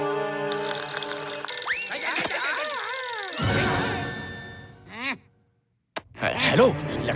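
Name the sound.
telephone ringing, calling the police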